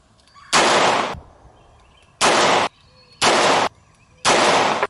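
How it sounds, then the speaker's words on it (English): Four handgun shots at an outdoor shooting range, loud and close, spaced unevenly about a second apart, each a sharp blast with a short ringing tail. "we're going to do some handgun shooting"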